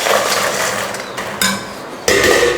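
Fried nendran plantain chips tumble into a pan of jaggery syrup for Kerala sweet banana chips, giving a steady dry clattering scrape with two sharper bursts of rattling as more pieces drop in.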